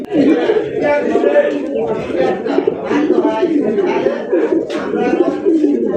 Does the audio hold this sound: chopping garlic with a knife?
no